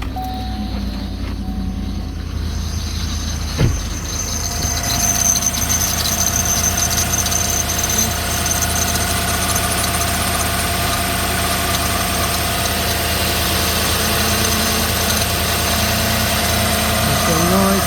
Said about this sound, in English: I'm about to turn it on so y'all can hear the noise of the tensioner when it's bad.